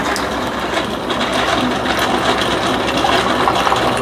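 A Ninja single-serve coffee maker brews with a K-cup, giving a steady, loud mechanical whirring hum mixed with bubbling and pumping water, continuous and close throughout with no talk.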